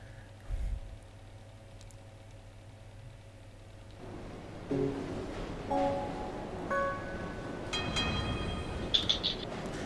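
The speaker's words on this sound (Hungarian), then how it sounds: "Ó, a metró." A subway train rumbles through a metro stage in the Gang Beasts video game, a low steady roar that swells midway as bright electronic tones and clanks build toward the end, with no speech.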